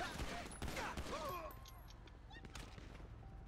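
Bursts of gunfire in a GTA 5 shootout during a police gang-unit patrol, sharp repeated shots crowding the opening second and a half, then thinning to scattered distant pops, with voices talking throughout.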